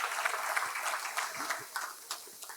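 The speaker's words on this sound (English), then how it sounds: "a round of applause." Audience at the grand opening of an ISSA technical conference gives a round of applause, moderately loud, with scattered individual claps audible through the crowd's clapping as it tapers off.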